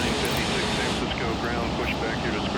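Airbus A380 taxiing on the ground at San Francisco airport, a steady broad engine roar and rushing hiss that holds at constant loudness throughout, with a voice talking over it.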